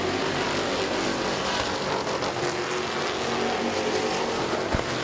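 Race cars circling the oval at Midvale Speedway, a steady loud wash of engine roar from a pack running side by side off turn four, continuous with no gaps.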